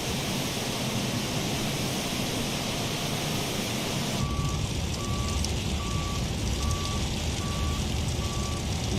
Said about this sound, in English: You can hear the truck.